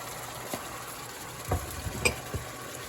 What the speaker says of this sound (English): And let that fry up.